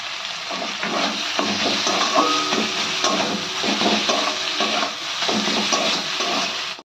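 Chicken mince frying in a pan with chopped coriander being stirred in, a continuous loud sizzle broken by scraping strokes of a spatula against the pan.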